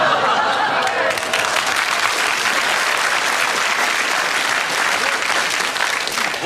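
Studio audience applause with some cheering fills the whole stretch, loud, dense and steady from start to finish.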